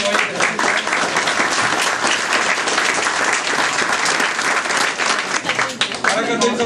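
An audience applauds regatta champions at an awards thank-you event, with dense, continuous clapping that fills the whole stretch and a voice faintly audible beneath it.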